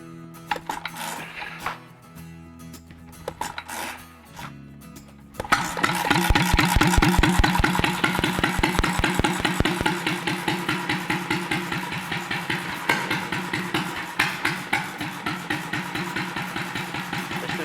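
Old Hull-made grain thresher from Summerside starts up after a few quiet seconds of clinking, then runs loud and close with a rapid, rhythmic mechanical chugging and rattling that pulses on steadily to the end.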